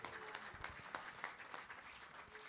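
An audience at a volunteering and solidarity day event in Ravanusa gives renewed applause for a speaker, producing faint, continuous clapping with no voices heard.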